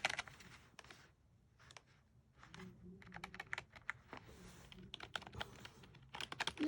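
Typing on an inexpensive Logitech K120 wired USB keyboard: bursts of quick, close key clicks in uneven rhythm separated by short pauses, with no voices.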